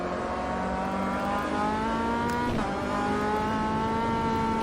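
An MCR Sports 2000 race car in Automobilista, on the Ibarra circuit, brakes into a turn, its loud steady engine drone dropping in pitch with a brief sharp blip midway; close, continuous, no talk.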